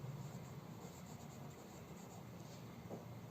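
A pen writing a leave application by hand on paper, a soft continuous scratching close to the microphone with no talking, ending in a brief louder knock.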